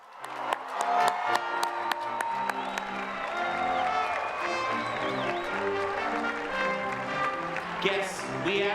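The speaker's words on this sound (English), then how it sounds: "Please join me in one last round of applause for the class of" An audience applauds the graduating class at a university commencement ceremony as organ or band music plays, with scattered claps, some cheering and crowd noise underneath.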